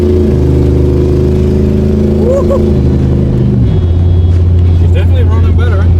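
A repaired Dodge Ram truck engine runs with a loud, steady, deep drone that shifts pitch partway through, as if easing off the throttle, and keeps going without a break.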